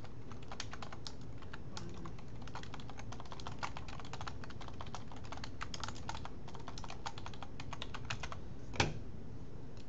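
Steady quick keystrokes on a computer keyboard typing a name, light rapid clicks at a low level, ending with one sharper tap.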